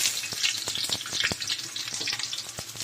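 Onions sauté in a pan for cabbage stir-fry, with a dense, steady frying sizzle and light stirring clicks scattered through it, close and unbroken, with no voices.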